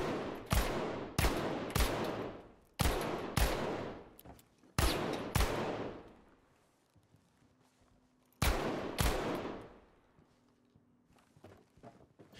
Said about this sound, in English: But if you shoot the coconuts